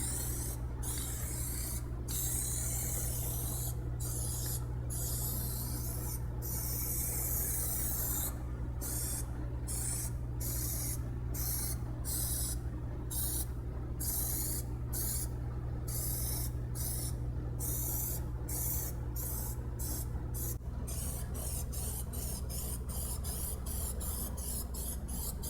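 Continuous hissing spray of a peelable coating onto a car, from close by, with steady low hum underneath and brief pauses between bursts.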